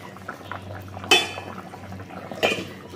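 Vegetable curry with potato and yam cooking in a pot, a steady soft bubbling simmer close by, with two brief metallic clinks of a utensil against the pot.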